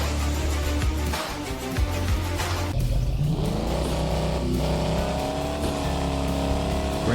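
Loud engine revving and roaring from a car in the mobile racing game Grand Street Racing, with a sustained rising pitch as the car accelerates, mixed with game music and no talk.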